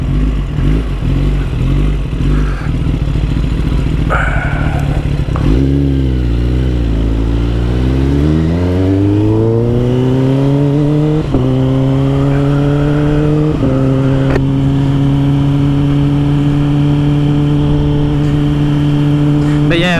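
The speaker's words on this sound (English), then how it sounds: "maybe turn on the launch control here on you, Junior." Kawasaki ZX10R 2022 motorcycle engine revving and pulling hard with launch control, pitch climbing in stepped gear changes, loud and close, continuous wind and engine roar with a voice over it early on.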